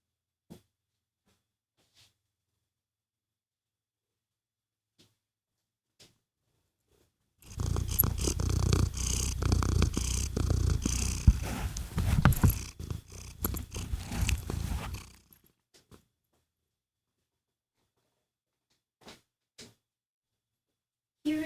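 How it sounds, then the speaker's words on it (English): A cat purrs loudly and close up for about seven seconds, a dense, steady rumbling that starts abruptly and stops just as suddenly, with near silence and a few faint knocks on either side. "Here is cat."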